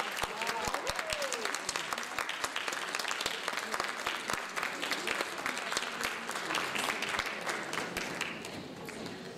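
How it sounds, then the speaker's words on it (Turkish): Steady, crisp clapping from a concert audience at a spring choral music performance, sustained for several seconds before gradually thinning out as the hall settles. "alkışlar kesilmesin."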